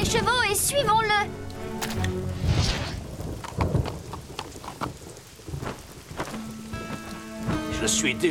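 Heavy rain pours steadily while thunder rumbles in a cartoon, with voices and tonal sounds rising over the storm at the start and end.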